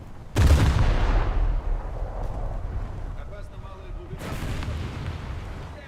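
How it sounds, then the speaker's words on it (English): A tank's ammo rack exploding in a video game: a sudden heavy boom that rolls into a long rumbling roar, with a second blast a few seconds later and a player talking over the noise. "I got an ammo rack, and it did blow up"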